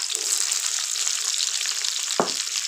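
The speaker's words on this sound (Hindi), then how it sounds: "हमने घी रखा हुआ था, गर्म हो गया, डालते हैं प्याज।" Chopped onions for a tomato-onion sabzi hitting hot ghee in a pan, a loud, continuous hissing sizzle up close, with a single clunk of a utensil partway through and no talk.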